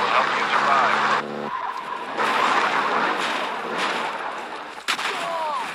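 A car in the video game Call of Duty DMZ speeds across desert terrain, its engine roaring and tires skidding in loud bursts, with a sharp crack near the end and a game soundtrack running underneath.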